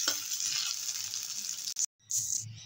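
Slices of bread fry in hot oil for an egg-and-bread korma, giving a loud, steady close sizzle that cuts out abruptly for a moment, then resumes.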